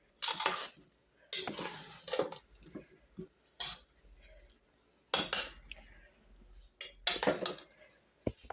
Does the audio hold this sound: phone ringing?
no